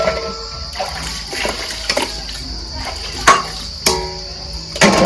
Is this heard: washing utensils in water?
yes